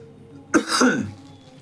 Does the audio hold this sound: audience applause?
no